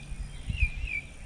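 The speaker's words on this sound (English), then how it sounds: "let you enjoy the sounds of the birds and the sunshine" Birds chirp and sing outdoors on a sunny day, a few faint high whistling calls over low background rumble, fairly distant.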